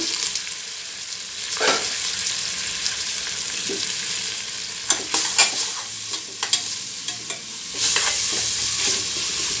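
Mint, coriander leaves and green chillies fry in oil for mutton biryani, giving a continuous soft sizzle broken by several sharp scraping stirs of a spoon against the pan, close by and with no talking.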